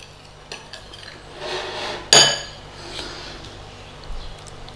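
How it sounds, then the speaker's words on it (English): Milk stirred with a spoon in a bowl while making a buttermilk substitute, with soft scraping swirls and one sharp metallic clink against the side midway, moderately close. "And then just give that a stir."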